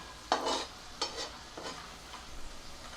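Peanuts and green chilies stir-fried on low heat for a jowar puffs chivda, giving three or four soft scraping stirs with a gentle sizzle in between, close and alone.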